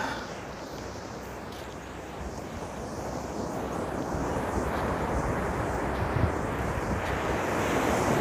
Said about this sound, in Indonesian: Ya, ini pantainya.